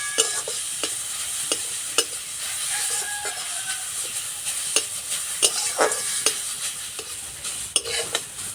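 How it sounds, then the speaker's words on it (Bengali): Grated carrot frying in a pan, a steady bright sizzle and hiss with regular scraping strokes of a spatula stirring through it, close and continuous. "গাজরটা ভালো করে ভেজে নেব"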